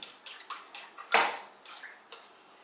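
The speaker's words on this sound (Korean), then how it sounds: "자 계란 풀었어요" Whisk or utensil rapidly striking a bowl while eggs are beaten for Korean steamed egg, a run of sharp, evenly spaced clinks followed by a louder scrape, close and clear with no talking.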